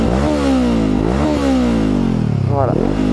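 A Honda CBR500R fitted with an Akrapovic exhaust, run without its baffle, revs up and drops back several times close by, with a loud, rasping note and a constant engine drone underneath.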